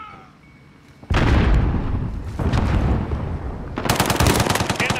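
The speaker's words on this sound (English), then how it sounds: "Grenade out." In a shooter video game, a heavy grenade blast booms close by and rumbles away, a second explosion follows, and then a rapid burst of automatic gunfire breaks out.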